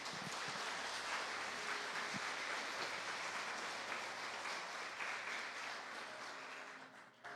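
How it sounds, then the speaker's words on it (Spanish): Strong applause from a church congregation, a dense steady wash of clapping that carries on for several seconds, tapering slightly near the end. "Para el cual es un aplauso fuerte"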